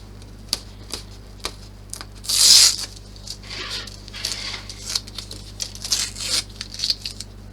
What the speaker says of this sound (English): So we remove all of the tape because we don't need any of the tape now.